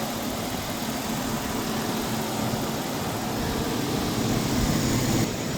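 A 2011 Chevrolet Silverado's 5.3-litre V8 engine idles steadily with a low, even rumble and a constant broadband hum, no revving and no ticks, heard close up.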